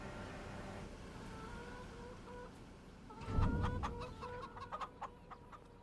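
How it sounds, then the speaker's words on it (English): Chickens in a farm game, Farming Simulator 25, cluck in a loose burst of short calls, starting after a low thud and continuing over a steady background hum. "the chickens look nice napping down"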